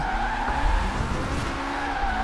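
Car drifting through city streets in Forza Horizon 4, driven with a Logitech G920 wheel and handbrake, a loud sustained tire squeal over the engine's drone, close and unbroken.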